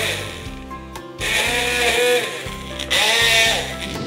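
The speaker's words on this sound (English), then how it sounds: "let's go ahead and puree the mixture" A blender purees a stuffing mixture of onions, parsley, black pepper and salt for stuffed zucchini. The motor whirs loudly in short, regular pulses, with a brief gap before it surges again.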